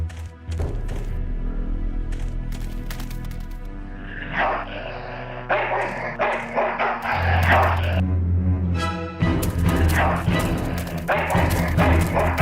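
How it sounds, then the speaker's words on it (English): In Full Throttle Remastered, an ill-tempered mongrel barks in loud, irregular bursts of yaps and gruff woofs over a low droning background, with thumps mixed among the barks. "That's one ill-tempered mongrel."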